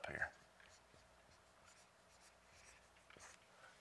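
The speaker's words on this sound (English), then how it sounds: "I'll just write it up here." A number written up on a board during a Bible study class, faint scratchy marker or chalk strokes in a quiet room after a short opening sound.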